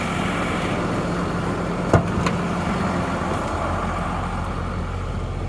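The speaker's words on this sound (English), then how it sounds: "this truck is going to idle for a period of 25 minutes" A 2019 Hino 258 truck idles after a remote start, its engine giving a steady low drone throughout with a brief knock or click near the middle and no talking.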